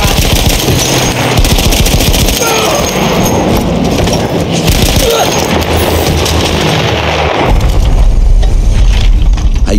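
Continuous loud machine-gun fire from the World War I shooter Battlefield 1, a sustained rattling barrage with booming impacts, no talk over it and a heavier crash of explosions near the end.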